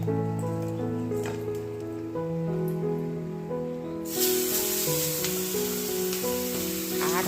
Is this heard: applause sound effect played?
no